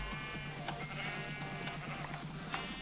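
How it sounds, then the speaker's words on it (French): Minecraft sheep in a modded FTB Infinity world bleat several times in short, nasal calls over a steady background hum, with no talking. "Des moutons."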